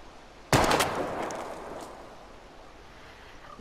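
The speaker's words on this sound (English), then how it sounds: "We're gonna shoot all these bottles without wasting a single bullet" A single loud gunshot aimed at bottles in the game Life is Strange, cracking sharply and then fading through a long echoing tail, otherwise quiet.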